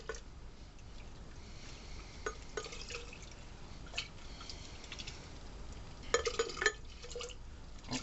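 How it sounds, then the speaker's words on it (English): Water runs and splashes inside a blender jar being rinsed out after blending chili sauce in a home kitchen, a faint, steady trickle with a few louder sloshing bursts near the end. "Now I'm going to rinse out my blender to get the rest of that"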